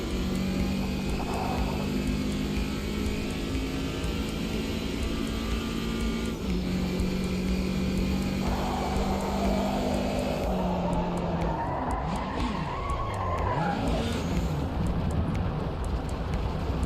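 Cars drift through corners in an arcade racing video game, engines droning steadily with a rising whine and tyre squeal sweeping up and down near the end, loud and continuous.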